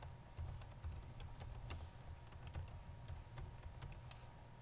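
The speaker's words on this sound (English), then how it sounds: "We'll type cost benefit analysis." Quiet, steady typing on a computer keyboard while entering a worksheet title in a spreadsheet, a fast patter of light key clicks that carries on throughout with no voices.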